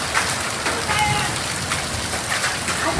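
Rain and hail pelt clay roof tiles in a thunderstorm, a close, continuous rattle and splatter that swells slightly in places, with water splashing and a faint voice underneath.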